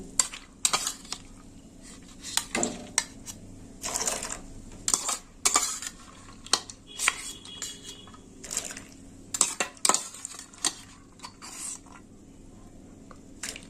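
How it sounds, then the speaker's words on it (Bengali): Soaked split peas (matar dal) poured into a pan in a home kitchen: repeated clinks, rattles and soft wet clatters, close and uneven, with scraping metallic taps spread throughout. "এবার আমি ডালটা দিয়ে দেব দিয়ে দিলাম ডাল"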